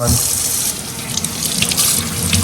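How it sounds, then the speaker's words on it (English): Kitchen tap running steadily as fresh corn cobs are rinsed under it before boiling, a continuous close hiss of splashing water filling the whole stretch. "Rinsing them off before they go in the water."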